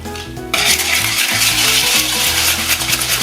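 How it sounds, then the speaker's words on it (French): A whisk beats egg yolks with sugar in a bowl, starting abruptly and continuing as a loud, rhythmic scraping and tapping close by, with no talking. "On mélange bien au fouet."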